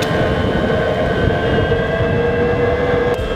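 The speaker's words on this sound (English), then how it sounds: "Boosted 3 is making a really weird noise" A Boosted 3 electric skateboard with an odd fault noise gives off a steady, loud rolling rumble layered with sustained high whining tones, continuous for the whole stretch with no talking.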